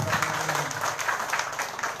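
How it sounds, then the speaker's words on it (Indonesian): Audience applause at a formal gathering of regional officials in Jayapura, a steady moderate patter of clapping throughout. "Tepuk tangan dulu untuk kita semua."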